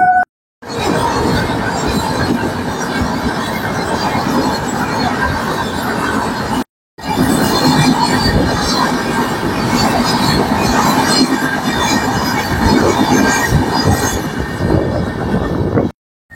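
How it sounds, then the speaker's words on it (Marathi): A train rolls past a level crossing amid heavy traffic, a loud, steady rumble of wagons with wheel noise that fills the scene, broken by one brief cut near the seven-second mark. "आता ट्रेन आली"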